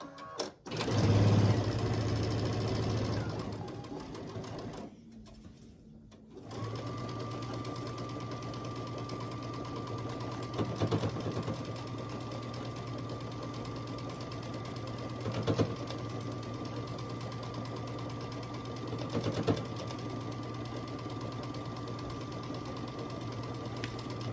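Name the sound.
sewing machine stitching the last row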